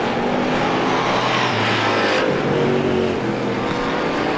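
Race cars lapping a short-track speedway during a Saturday night feature, a steady dense engine roar with cars sweeping past close by, no voices.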